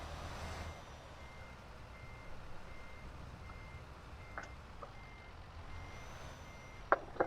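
A truck reversing in Euro Truck Simulator 2, a faint repeating backup beep over a steady low engine rumble, with a couple of sharp clicks near the end.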